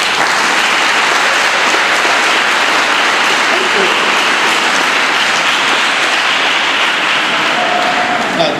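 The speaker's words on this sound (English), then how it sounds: "So Liam, give him a round of applause." Sustained applause from an audience at the South African Science Olympiads awards ceremony, dense and steady throughout, with faint voices underneath.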